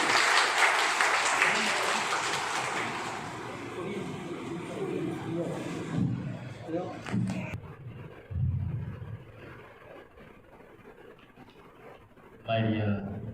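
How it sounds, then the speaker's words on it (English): School audience applauding the principal at an Independence Day assembly, a swell of clapping that fades after a few seconds, followed by a voice speaking over a hall with some rumbling background noise. "Can we have a big clap for our principal?"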